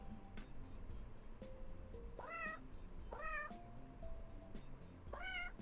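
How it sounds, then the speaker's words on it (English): A small cat meows repeatedly in a video game, several rising, whining meows spaced a second or so apart over steady background music. "There's a cat there."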